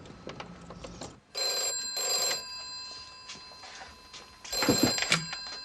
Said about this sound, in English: I am shaking and the phone's ringing